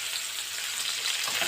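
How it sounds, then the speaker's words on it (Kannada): Curry leaves fry in hot oil for an aloo bhindi palya, giving a continuous, close sizzling hiss with no voices. "ಇದನ್ನ ಸ್ವಲ್ಪ ಫ್ರೈ ಮಾಡ್ಕೊಳ್ಳೋಣ."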